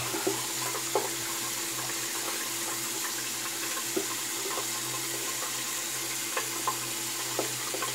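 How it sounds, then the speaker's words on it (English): Water runs steadily from a tap while shaving is rinsed off, a constant hiss with faint splashes and small clicks, no voices. "Let's rinse off."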